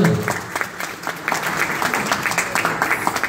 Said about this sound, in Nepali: तपाईँहरूले आफ्नो लागि ताली बजाइदिनु होला